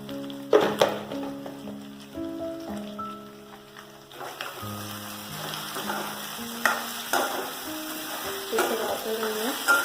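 Vermicelli frying and being stirred in a pan with salt added, a continuous crackling sizzle with scraping stir strokes, heard under background music.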